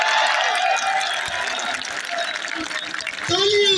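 Crowd applause at an outdoor political rally in Laki Marwat, a dense wash of clapping and crowd noise throughout, loud and sustained, swelling again near the end.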